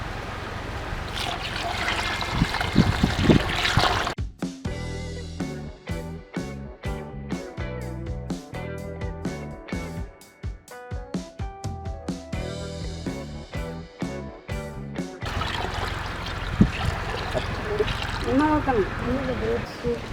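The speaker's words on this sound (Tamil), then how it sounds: "அடுத்தது தண்ணி ஊற்றும்" Water is poured into a pot of mutton bone rasam during village cooking in Aduparai, a splashing, trickling pour heard at the start and again near the end, with a stretch of voice and tonal sound in between.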